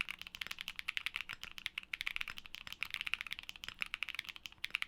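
Rapid, steady typing on a mechanical keyboard with linear switches, with a dense stream of crisp clacks, close and moderately loud, no voices.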